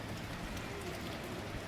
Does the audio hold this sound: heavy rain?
yes